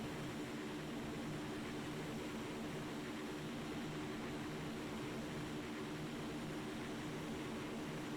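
Steady engine drone of a PC-9 aircraft in the FlightGear flight simulator game, a continuous mid-level hum with a constant tone and broadband rush, heard alone without any talk.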